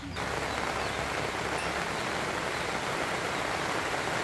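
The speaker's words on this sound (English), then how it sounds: "And it started raining." Steady rain pours down on Camotes Island, Philippines, in a dense, even hiss, continuous and close with no pauses or voices.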